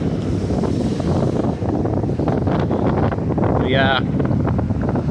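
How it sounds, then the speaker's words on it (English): Strong wind at Rosarito Beach, Mexico buffets the microphone in a loud, continuous rumble with surf noise beneath it. A brief voice speaks over it near the middle. "Somewhat chilly with the wind blowing this hard."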